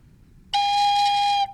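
One sustained woodwind tone played with finger holes covered, slightly lower and breathy-edged, held for about a second, close up with nothing else around it.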